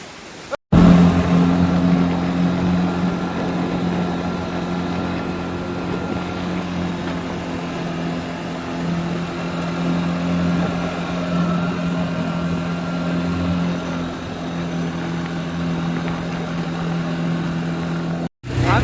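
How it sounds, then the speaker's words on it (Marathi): A Royal Enfield Bullet motorcycle engine idles steadily and loudly with a low, even thump, running continuously throughout with faint background noise. "गाडी चालू आहे बुलेट वाली"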